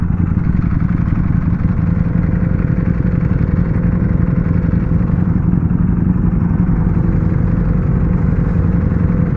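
A Ducati Panigale V4S motorcycle rides through London at night, its engine a loud, constant, close roar that never lets up for the whole stretch.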